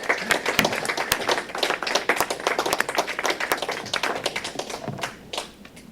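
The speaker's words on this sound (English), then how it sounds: "So how about a big round of applause for all our way to go winners again?" An audience at a county board of commissioners meeting gives a round of applause, with many distinct hand claps in a lively patter across the room. The clapping thins out and fades near the end.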